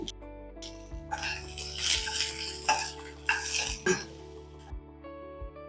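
Onion and green chili sautéing in oil in a pan for a Tamil-style fibre-rich omelette, with stirring scrapes and clatter of utensil against the pan over a low steady hum, no talking.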